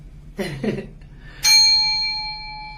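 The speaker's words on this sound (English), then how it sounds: "I'm gonna start with our warning, our centering chime that I do, and then we're gonna do the 3 chimes." A meditation centering chime is struck once, ringing out bright and sustained and slowly decaying, after a brief stretch of quiet speech.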